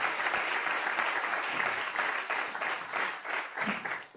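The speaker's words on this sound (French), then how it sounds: "Je pense que vous pouvez les applaudir." A conference audience at an aluminium industry meeting applauds three speakers: loud, dense clapping from a full room, steady for about four seconds and tapering slightly at the end, with no talk.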